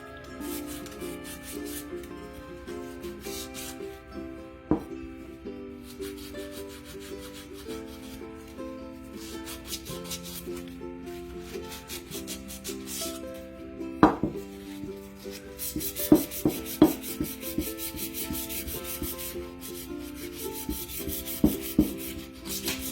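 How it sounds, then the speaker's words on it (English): Sandpaper rubbed over excess paint on the rim of a glass jar, soft irregular scratching strokes close by, with background music and a few sharp taps. "if you take your sandpaper, you can sand that off"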